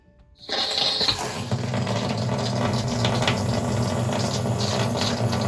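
Water suddenly begins gushing from an RV's hot-water faucet and keeps running in a steady, strong stream, close and fairly loud.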